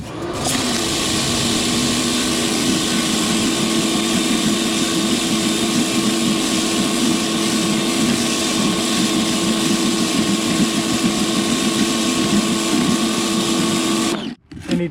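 Pressure washer with a pressure nozzle cleaning a driveway: a loud, continuous droning hiss and motor hum that runs steadily for about fourteen seconds, then cuts out briefly near the end.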